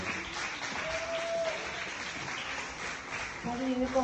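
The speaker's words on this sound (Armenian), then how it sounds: "Բարձր ծափահարությունները։" A festival crowd claps in sustained, moderately loud applause that swells again at the end, with a voice briefly heard over it.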